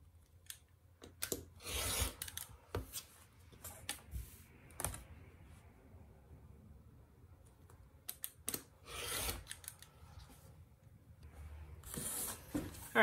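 Scissors snip and trim the fabric seam allowances of an in-the-hoop pot holder, giving bursts of crisp cutting sounds and rustling fabric with quiet pauses between them.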